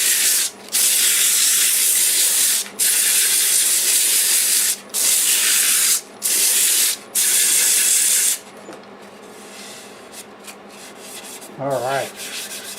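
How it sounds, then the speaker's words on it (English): A large wood-turned bowl being sanded, heard as loud steady rasping in long bursts broken by short pauses, then a quieter stretch of faint rubbing and handling noise near the end. "And we'll sand this area like this."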